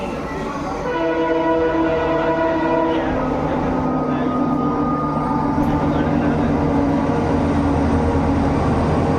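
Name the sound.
diesel locomotive train passing at Durgapur station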